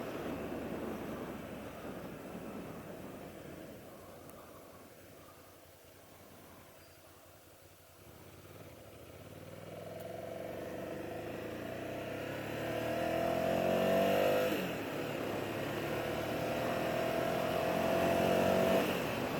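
A 2006 Ducati SuperSport 800 motorcycle engine warms up nearby, a low idle that dips and then rises into swelling revs that rise and fall in pitch toward the end.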